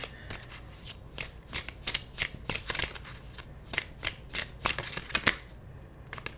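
Oracle cards being shuffled for a Twin Flame Ascension reading, a rapid run of crisp riffling bursts in an irregular rhythm, close and clear with no voice.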